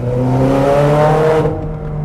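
Ferrari 430 Scuderia with a naturally aspirated V8 and Capristo exhaust revs hard with a loud, steady harmonic roar, then drops off abruptly near the end.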